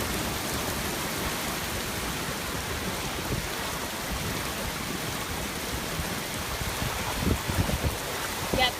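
A steady downpour of heavy rain hisses and roars throughout during street flooding near Canal Street and Jeff Davis Parkway in New Orleans, with a few louder splashes and knocks near the end.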